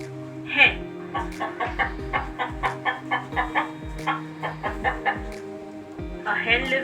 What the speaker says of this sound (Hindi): A hen lives in a coop.